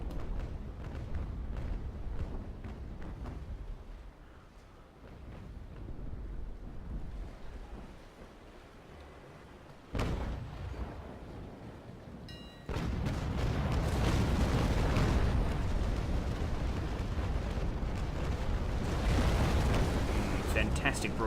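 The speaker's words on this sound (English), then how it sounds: "Fantastic broadsides going off there." Ships of the line in the sailing-era naval game Naval Action fire rolling cannon broadsides, heavy booming blasts crashing in waves over wind and sea noise, with a sharp loud burst near the middle and sustained thunder toward the end.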